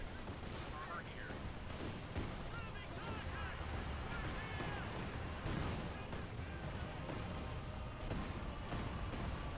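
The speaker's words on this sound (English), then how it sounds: "So much artillery. Another unit just utterly brutally torn apart by all the rockets unleashed" Artillery and rocket barrages in Company of Heroes 2, a continuous roar of distant booms and rapid gunfire layered over battle noise, with a commentator speaking throughout.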